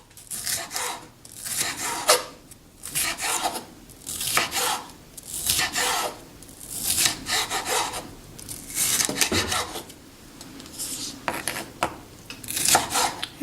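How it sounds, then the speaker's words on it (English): A knife chops rinsed, deseeded vegetables into short segments for chicken tacos, producing a steady run of close, scraping strokes about once a second. "And let's just chop it up."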